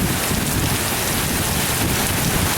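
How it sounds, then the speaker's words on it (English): Heavy monsoon rain pours in a dense, steady roar that fills the whole clip, loud and close, with a deep low rumble underneath and no voices. "Now this is a good monsoon rain we have on July"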